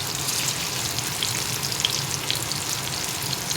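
Cut pomfret pieces fry with onions in a pan, giving a steady, dense sizzle with scattered crackling pops throughout, close and unbroken.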